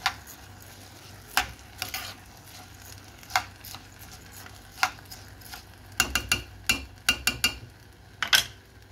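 A utensil stirs ingredients seasoned with chicken powder in a pan, making irregular scraping clacks against the metal over a soft background sizzle, with a quick cluster of strokes near the end.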